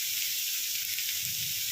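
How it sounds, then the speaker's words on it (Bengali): Soya chunks frying in hot oil in a pan give off a steady, close hiss and sizzle that holds evenly throughout, with a faint low bubbling beneath and no talking. "একদম লাল করে ভেজে নিতে হবে"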